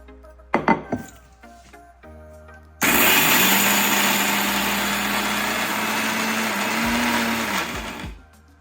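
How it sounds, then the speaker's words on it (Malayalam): After a few brief clicks and handling knocks, a mixer grinder grinding ginger roars loudly for about five seconds with a whining motor hum, then stops abruptly, leaving a couple of faint knocks. "നമുക്ക് ഈ ഇഞ്ചി ഒന്ന് പൊടിച്ചെടുക്കാം."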